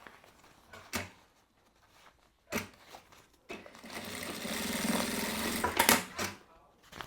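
A sewing machine stitches a fabric panel up close: two brief bursts come first, then a sustained run of rapid, rattling stitching lasting about three seconds before it stops.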